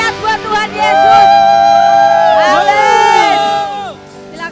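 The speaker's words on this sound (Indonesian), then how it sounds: "Tepuk tangan yang paling dahsyat buat Tuhan Yesus." A church congregation at a combined worship service cheers, whoops and shouts loudly as one, a sustained crowd roar with voices rising and falling for several seconds before easing off.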